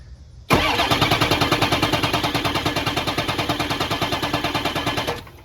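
Ford 6.0 Powerstroke diesel engine cranking over on the starter during an injector bubble test with one bank unhooked, a loud, rapid rhythmic chugging that runs steadily for about five seconds, then cuts off.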